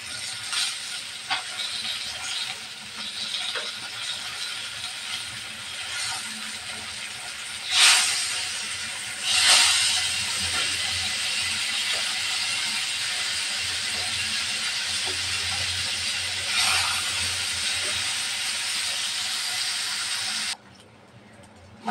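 Koi fish freshly flipped in a pan of hot oil, giving a steady, close sizzling hiss for about twenty seconds with a few louder crackling spurts before it cuts off abruptly.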